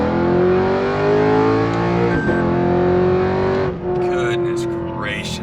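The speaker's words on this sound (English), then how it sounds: "This is the best sounding car, especially on the shifts." Lexus RC F V8 engine revving hard and climbing through the gears, a loud, close harmonic roar with a sharp break at each upshift, then easing off to a lower, steadier drone as the car settles.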